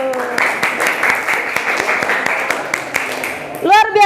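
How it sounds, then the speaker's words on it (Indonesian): Classroom of students clapping hands together at a teacher's prompt, a lively burst of many hands with rhythmic accents, followed at the end by a voice speaking over the fading claps. "Oke, tepuk tangan dulu."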